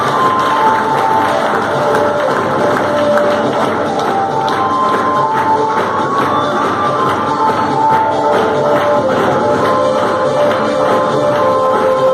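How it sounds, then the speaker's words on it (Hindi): A crowd at a business meeting in Dausa claps and cheers to welcome a speaker, a continuous loud wash of clapping, whoops and shuffling with voices mixed in. "आपकी जोरदार तालियों से स्वागत करें।"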